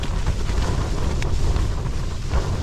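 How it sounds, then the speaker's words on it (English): Strong wind batters a double-poled tent in a forest during deteriorating weather, a continuous loud rushing roar with gusty buffeting against the fabric, close and without talk. "the wind ferociously blew around the tent"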